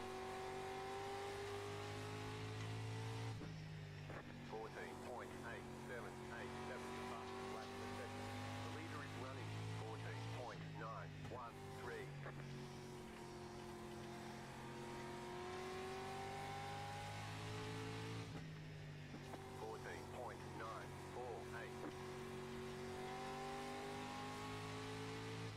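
Street stock race car engine in the iRacing sim at Lanier National Speedway, droning loudly and steadily with repeated pitch dips and climbs as laps pass through corners, with light tire noise; someone talks occasionally over it.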